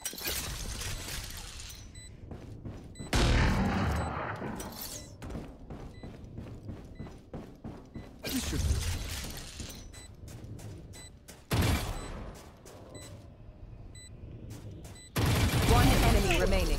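In a Valorant match on the Bind map, Chamber fires a sniper rifle in several heavy, booming shots spread across the round, set among game effects and voices talking over the action.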